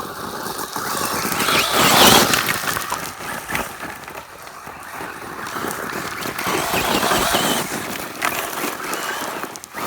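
A Traxxas Slash 2WD brushless RC car driving over rocks, its whining electric motor rising and falling in short bursts amid rattling and crunching, moderately close with no talk.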